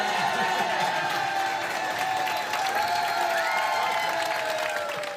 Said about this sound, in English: the only MP from Nunavut was met with cheers, chants, and hugs from her new colleagues